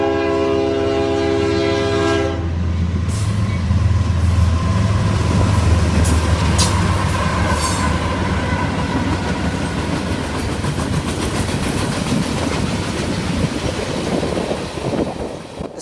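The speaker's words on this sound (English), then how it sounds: "The Selkirk, New York to Columbus mixed freight train Q635 had one of CSX's sticker units in the lead" A CSX Q635 mixed freight train from Selkirk, New York to Columbus passes a crossing, opening with a loud, sustained multi-note horn blast, then a steady close roar of rolling cars and wheel clatter.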